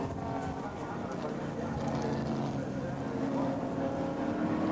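Chevrolet V8 touring cars racing at Adelaide International Raceway, a steady engine drone heard at a distance under continuous commentary.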